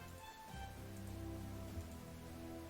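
Rainy weather in the strategy game Panzer Corps 2 makes a steady soft hiss of falling rain, constant throughout and layered with low sustained game tones.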